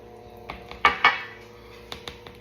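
A utensil clinks and scrapes against a bowl as sour cream is mixed into cheesecake batter, with a few sharp knocks and softer taps spread irregularly, close and moderately loud.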